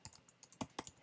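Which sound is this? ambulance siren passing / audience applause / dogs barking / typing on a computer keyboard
typing on a computer keyboard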